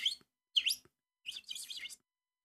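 Bird chirps and tweets, played as a mock language of birds: three bursts of bright, high calls, two short ones followed by a longer warbling run, close and clear with silent gaps between.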